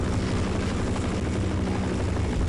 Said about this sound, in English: only when the chopper goes away and we can't hear him